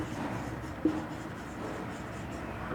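Marker or chalk writing on a classroom board during a biology lesson, a soft continuous scratchy stroke over low room noise with two brief taps.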